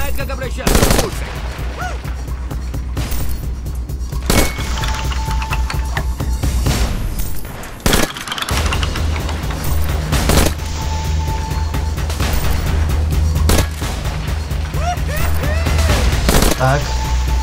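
Dense gunfire fills a Hitman Absolution bar fight, with bursts of shots, heavy booms and a sudden crash, and voices talking between the bursts.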